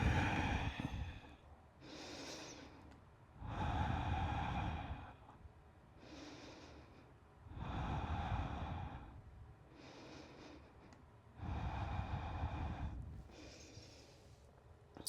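Slow, deep breaths during an Ashtanga yoga seated forward fold, each long inhale and exhale rising and falling in a steady rhythm, close and soft with no talking.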